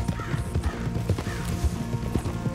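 Horse hooves clip-clopping at a steady trot with a whinny breaking through, from a Red Dead Redemption 2 horse, a Shire, heard close and loud with no talk over it.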